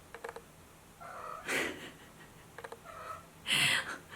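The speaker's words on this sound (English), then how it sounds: "do you hear the cat in the background?" A cat's faint meows and soft vocal sounds in a quiet room, a few short bursts separated by pauses, with light rustling.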